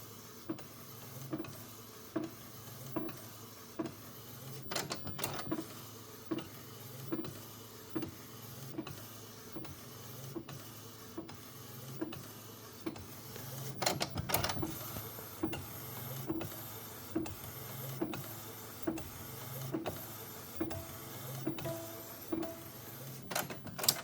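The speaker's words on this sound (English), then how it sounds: "And then your image is printing out here." A DTF printer prints an image, its print head sweeping back and forth in a steady mechanical whir punctuated by regular clicks and clunks at each pass, with a louder burst of movement midway and no talking.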